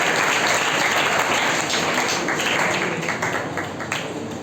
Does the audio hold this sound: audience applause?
yes